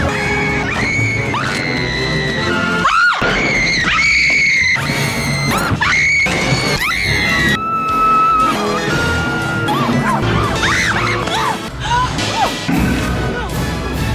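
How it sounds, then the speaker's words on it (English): A woman screams in a Tim Burton Batman film scene, loud shrill cries mixed with crashes, thuds and dramatic soundtrack music. "not to mention her extreme scream skills"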